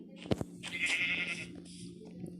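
A video-game sheep bleats once in a wavering, nasal call over a steady low hum, fairly close and moderately loud.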